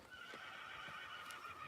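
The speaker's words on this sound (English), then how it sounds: "This horse is really moving along in good order." A horse neighs in a drawn-out, fairly faint whinny over a continuous backdrop, with no voices during the call.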